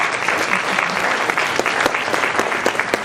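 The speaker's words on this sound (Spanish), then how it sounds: "Los recibimos con un fuerte aplauso" Audience at a talk on cultural diversity greets the speakers with strong, steady applause, close and continuous clapping throughout.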